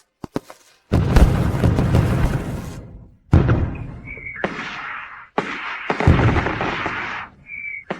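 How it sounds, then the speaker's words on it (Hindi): Fireworks burst one after another at night, heavy booming blasts with crackling tails and short gaps between them, loud and close, with no talking. "फिर भी कोई उसके लिए आतिशबाजी कर रहा है"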